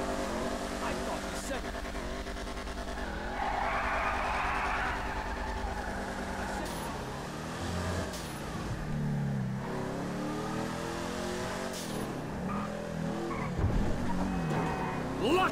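Supercharged Dodge Charger R/T in GTA V accelerating hard, with rising and falling engine revs, gear changes and tire squeal and skids, loud and continuous throughout.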